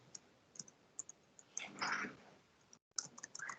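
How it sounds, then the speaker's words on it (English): Quiet, irregular clicks of keys being typed on a computer keyboard, with a brief swell of background noise in the middle and a short pause near the end. "I'm just typing a message here to Rensha."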